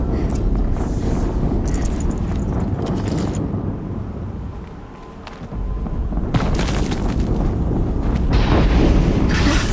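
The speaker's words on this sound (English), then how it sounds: "Another explosion." Explosions in the video game Horizon Zero Dawn boom loud and rumbling, a sustained blast dipping briefly before a second heavy burst of roaring noise returns.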